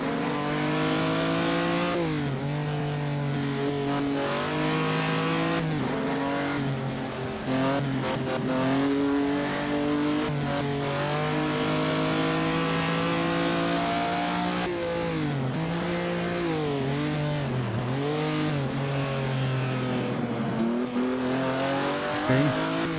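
A 1948 post-war race car in Assetto Corsa screams near redline, its loud harmonic engine note sweeping up and dipping repeatedly through gear shifts, with brief tire squeal and no voices.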